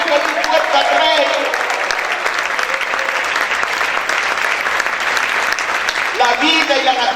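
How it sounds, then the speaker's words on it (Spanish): A church congregation during a sermon clapping vigorously and calling out, steady loud applause mixed with shouted voices from start to finish, and a preacher speaking at the beginning and again near the end. "A gritar y aplaudir fuerte al Rey."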